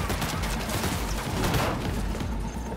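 Rapid video game gunfire crackles in a dense, continuous burst of overlapping shots, loud and close, with no pauses between rounds.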